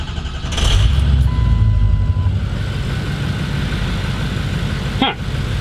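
A bus engine rumbles steadily at close range as the bus pulls out of a shop, with a brief electronic tone and a short sweeping whine near the end.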